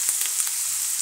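Onion and chicken fillet fry in vegetable oil in a pan, giving a steady, close, even sizzle with faint crackles, and no voices.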